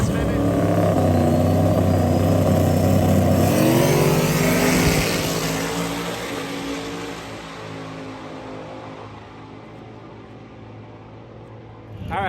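A big block twin turbo drag car launches in the Streetcar Elite class, its engine roaring loudly as it climbs through the gears, then the sound recedes and fades into the distance as it finishes a quarter-mile pass.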